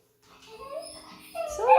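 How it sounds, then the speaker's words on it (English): A dog whimpers and whines indoors, starting soft and rising into a louder, higher yelp near the end, heard close and alone with no talk over it. "It's such a demanding dog."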